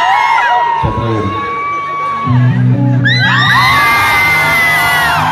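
A concert crowd whoops, shouts and cheers loudly and close by, with rising cries layered over one another. A person speaks briefly near the start.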